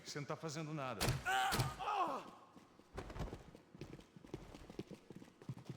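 Footsteps in Max Payne 3, a run of soft clip-clop steps on a hard surface from about the midpoint on, following a burst of voice, fairly quiet and irregular in pace.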